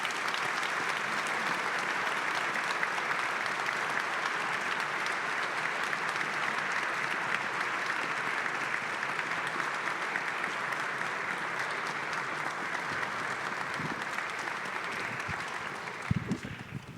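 An audience in a synagogue sanctuary applauds steadily to welcome Rabbi Angela Buchdahl and Rabbi Ryan Bauer, a dense, even wash of clapping that holds for the whole stretch and tapers at the end.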